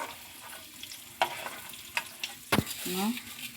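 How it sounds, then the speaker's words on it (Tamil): Bitter gourd pieces frying in oil in a pan, a steady sizzle broken by several sharp scraping stirs of a spatula, close up with no talk. "இது மாதிரி பாவக்காய் ஃப்ரை பண்ணி எடுத்துக்கலாம்"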